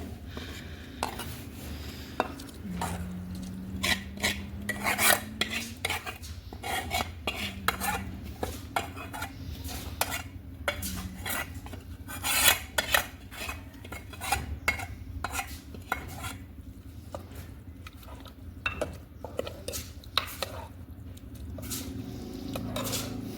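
A spoon scrapes and clatters steadily in a pot as ghoila is stirred with onions, a dense run of close metallic knocks and squishy sloshing with no talk.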